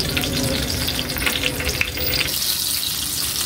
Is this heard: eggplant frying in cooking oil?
yes